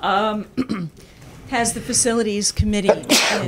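A sharp, close sneeze bursts out during an indoor committee-style discussion, set among ongoing voices.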